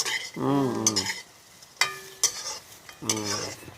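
Chillies and tomato are sautéed in a pan, with close scraping and stirring clatter over a soft sizzle in short bursts, and a voice breaks in briefly between them.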